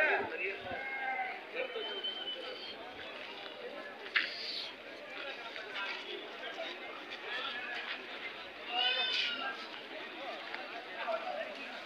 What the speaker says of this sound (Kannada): ಹೆಣ್ಣು ಕುರಿನಾ ಟಗರನ್ನ?